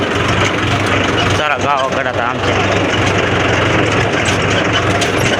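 A tractor engine runs steadily with a low, continuous rumble throughout, loud and close, while someone talks over it.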